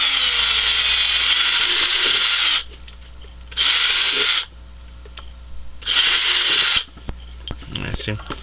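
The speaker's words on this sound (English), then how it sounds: "just drill it this way" A power drill whirs in three loud bursts separated by short pauses, with a few clicks and knocks between runs.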